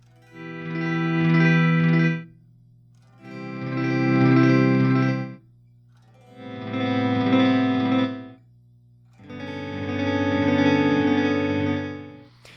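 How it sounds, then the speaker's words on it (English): Four slow electric guitar volume swells, with the delay pedal placed before the volume pedal, each fading in smoothly and cutting off abruptly, soaked in echoing repeats with short silences between them. "So if I play my delay pedal before the volume and I want to make volume swells"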